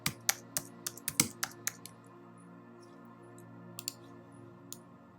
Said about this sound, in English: So we'll type in cinematic.